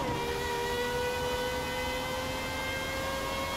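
GMA T.50 supercar in Forza Horizon 5, a steady high-pitched engine drone with a whirring fan, constant and close for a few seconds without talk.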